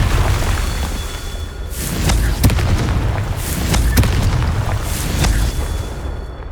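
Confringo fire-spell blasts in Hogwarts Legacy: several sharp explosive booms with crackling tails over a rumbling combat background, spaced a second or so apart.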